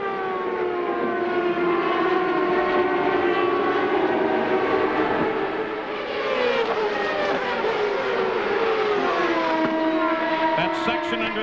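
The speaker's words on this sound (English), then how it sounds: "Dixon accelerates away from second place Kenny Breck" IndyCar race cars at an oval race keep up a loud, continuous high-pitched engine whine throughout, with pitch sweeping up and down as they accelerate past.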